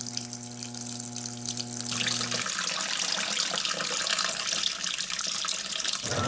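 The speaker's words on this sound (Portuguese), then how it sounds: "Agora, então, eu vou deixar ela encher de água." Water rushing steadily into a Panasonic 18 kg titanium washing machine (NA-F180P7T) as it fills, a continuous broadband hiss that starts after a brief hum and keeps going at even strength.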